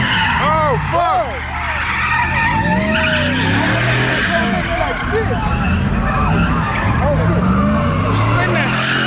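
Tires squeal and skid as a car spins at a night car meet, long wailing screeches rising and falling over engine roar, with excited shouting from onlookers close by.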